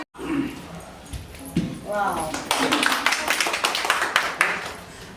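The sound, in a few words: applause, group clapping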